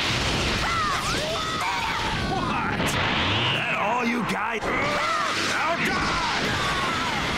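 A battle explosion in Dragon Ball Z Kakarot erupts as a dense, sustained roar of crashing, bursting energy blasts, with in-game voices shouting over the chaos.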